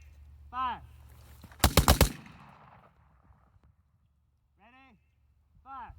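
A quick cluster of loud AR-15 rifle shots fired during a shooting drill, four or five rapid cracks in a single burst, with speaking voices before and after.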